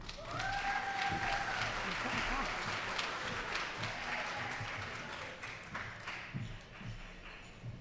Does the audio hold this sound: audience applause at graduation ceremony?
yes